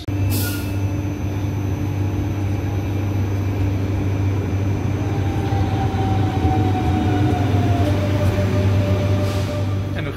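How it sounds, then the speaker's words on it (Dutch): An Intercity train bound for Amersfoort Centraal rumbles loudly and steadily at Stendal station in Saxony-Anhalt, with a continuous low drone and faint brake or wheel tones rising over about ten seconds. "Deze trein hier is de Intercity naar Amersfoort Centraal."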